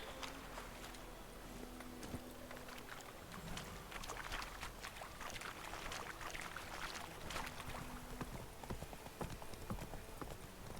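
Geralt's horse Roach trots in The Witcher 3, steady rhythmic hoof clip-clops that run throughout, faint, with ambient wind and rustling behind them.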